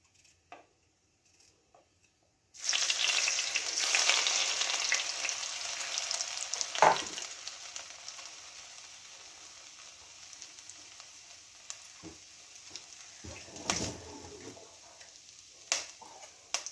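Ginger sizzling in hot oil in a pan, a steady loud frying hiss that starts abruptly and continues throughout, with a few brief stirring clinks and bumps along the way.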